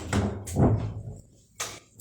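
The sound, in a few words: door closing, wind pushing on door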